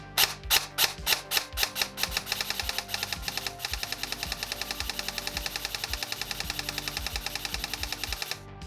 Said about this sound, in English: Binary: the shot is fired when the trigger is pressed and released.